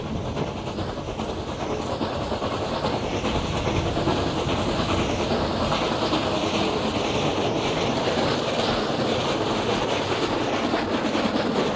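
Reading excursion train passing under the Route 61 highway bridge at Port Clinton, heard as a steady, loud rumble with rail clatter running continuously throughout, no voices.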